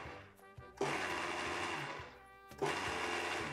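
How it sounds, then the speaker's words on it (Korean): A Vitamix blender pulses strawberries with sugar into a chunky fruit preserve, giving two loud whirring bursts, the first running about a second and a half and the second starting near the end, separated by a quieter lull with motor hum. "이제 바이타믹스로 간단히 해볼게요. 펄스 기능으로 과육이 씹히도록 할 건데요."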